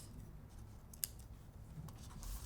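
Scissors snip once through extra string at the end of a craft project, a brief, faint click close by over a quiet room.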